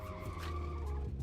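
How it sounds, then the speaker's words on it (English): Car performing a handbrake turn, tires skidding in a continuous loud screech over a steady engine drone, lasting the whole short moment. "So we're gonna use our handbrake here."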